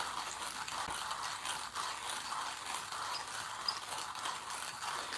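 A hand-turned manual coffee grinder crunches through coffee beans in a steady, gritty ratcheting rhythm that continues evenly throughout at moderate, close range.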